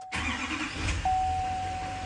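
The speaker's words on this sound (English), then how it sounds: "we're just gonna go start the truck and make sure we don't have any engine lights" An LML Duramax diesel pickup truck cranks briefly and fires up, settling into a steady idle, with a single sustained electronic chime sounding alongside the running engine.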